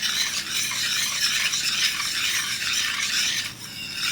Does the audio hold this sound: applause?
no